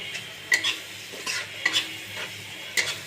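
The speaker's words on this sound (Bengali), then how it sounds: "জল দিয়ে আর একটু ভালো করে এটাকে নেড়ে নেব।" Masala loosened with a splash of water is stirred in a pan for a rui fish curry: a few distinct scraping strokes of a spatula over a soft background sizzle, close and clear with no talk.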